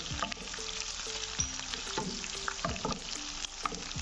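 Chopped green chillies and whole red chillies dropped into hot oil with cumin for a tadka, a steady close sizzle with scattered spoon scrapes and knocks against the pan.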